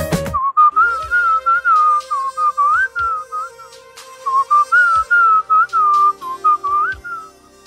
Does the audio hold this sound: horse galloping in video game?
no